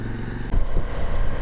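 An Ibex 800T motorcycle engine and its odd gear noise while riding, a steady loud drone that lifts and thickens partway through, close up with no talking.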